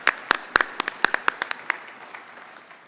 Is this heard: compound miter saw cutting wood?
no